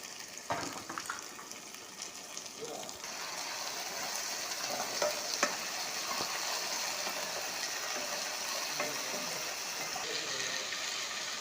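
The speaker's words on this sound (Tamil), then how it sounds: "கத்திரிக்காயும் ஆட் பண்ணி நல்லா வதக்கலாம்" Brinjal and tomato sauté in a hot pan for a field bean curry, giving a steady, even sizzle that lasts throughout with occasional soft scraping from stirring.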